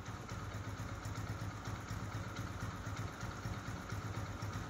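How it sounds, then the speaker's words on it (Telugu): A Hero Glamour motorcycle engine idles steadily up close, a low, even thumping putter with a faint mechanical clatter running throughout. "ఒకసారి మీరు ఇంజిన్ బీటింగ్ వేసేయండి"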